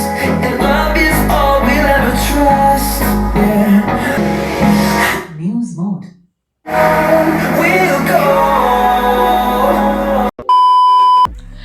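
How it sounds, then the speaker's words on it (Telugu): Sample music track playing through a MIVI Fort S100 soundbar, loud and full with steady rhythm. It cuts out briefly to near silence before resuming, and a short electronic beep sounds near the end. "ఇక్కడ నేనైతే ఒక శాంపుల్గా ఆడియో క్లిప్ని అయితే ప్లే చేసి చూపిస్తాను"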